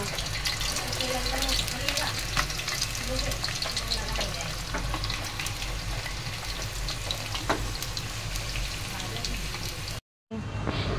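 Onions frying in hot oil for birista, a continuous crackling sizzle with occasional stirring clatter, close and steady before a brief drop to silence near the end.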